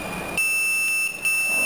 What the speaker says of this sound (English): I get a buzzer at the transmitter section